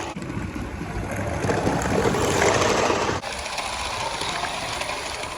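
A Mamod Mk 3 live steam model locomotive climbs a grade with a close, steady rushing hiss and chuff that swells, then abruptly drops to a quieter, even hiss.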